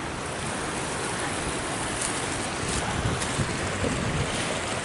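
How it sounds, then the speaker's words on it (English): A rain-swollen creek rushes under a small bridge along a lakeshore trail at Selkirk Shores State Park, a steady broadband wash of water with some wind buffeting, constant and fairly loud, with nobody talking. "Oh, nice little creek and bridge here."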